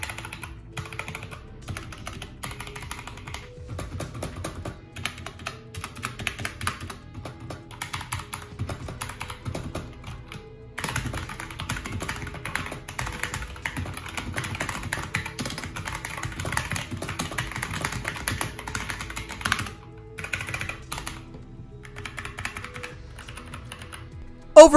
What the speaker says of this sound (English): let's go ahead and see how these brown switches sound.